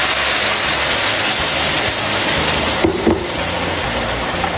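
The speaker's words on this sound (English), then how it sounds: "I'm gonna go ahead and add 2 cups of water" Two cups of water pour into a pot of translucent cooked onion, making a loud, continuous rushing splash close up that briefly shifts in tone near the end.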